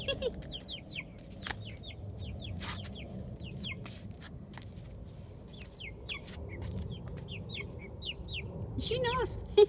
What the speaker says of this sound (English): That is a very smart chicken.